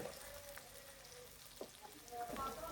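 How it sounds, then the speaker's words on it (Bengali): Chopped onion fries in hot oil for a spinach and meat curry, a quiet, even sizzle with a few soft pops near the end. "তারপর তেলের সাথে আমি দিয়ে দিচ্ছি এক কাপ পেঁয়াজ কুচি"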